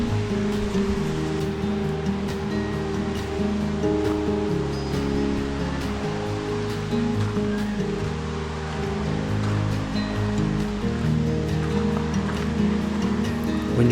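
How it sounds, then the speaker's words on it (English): Fall Creek Falls in Tennessee roars as a continuous, dense rush of falling water, a steady broadband wash that neither rises nor fades, heard from a hiking trail with no voices. "You could hear the falls roaring as you started to get closer."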